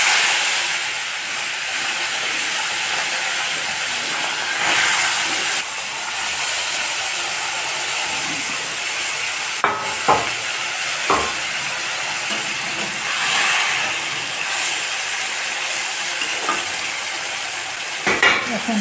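Fish sizzles in a pan with onion and green chili paste, producing a loud, continuous frying hiss throughout, with occasional clinks of a utensil.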